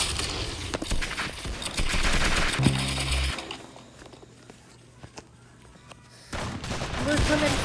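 Rapid bursts of gunfire in the Roblox shooter Arsenal, loud clustered shots in the first few seconds and again near the end, with a quieter stretch of scattered pops and footsteps between.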